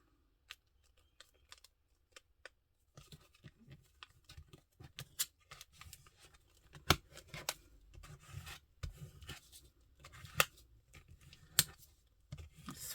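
A magazine page is folded into a paper wallet, close and quiet, with soft creasing, rubbing and light tapping sounds in irregular bursts over a near-silent background.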